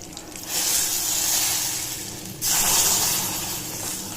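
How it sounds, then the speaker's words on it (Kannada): Hot tempering with curry leaves is poured into cooked lentils for sambar. It gives a loud, hissing sizzle that flares up, eases, then surges again in a second burst and keeps fizzing steadily. "ಇದಕ್ಕೆ ಒಗ್ಗರಣೆನ ಹಾಕ್ತಾಯಿದ್ದೀನಿ."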